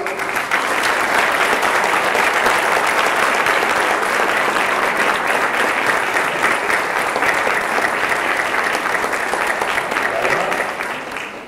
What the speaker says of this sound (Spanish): quiero que les den un fuerte aplauso.